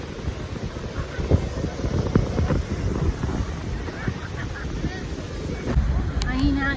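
Strong wind gusts across a beach, a steady roaring buffet and rumble on the microphone with surf-like wash underneath, constant and close throughout.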